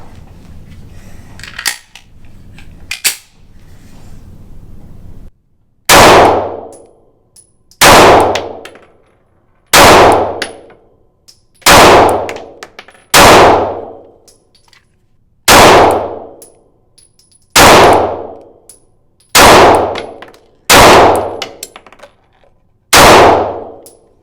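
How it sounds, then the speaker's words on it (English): Springfield Hellcat pistol (2020) fitted with a Sig Sauer Romeo Zero red dot, fired at a target from 10 yards: about ten loud, sharp shots at a steady pace of roughly two seconds apart, each ringing out briefly, after a few quiet handling clicks. "I'm gonna shoot at another clean target"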